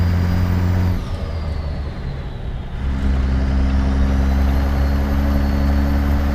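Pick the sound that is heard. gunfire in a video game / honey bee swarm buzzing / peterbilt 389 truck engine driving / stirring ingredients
peterbilt 389 truck engine driving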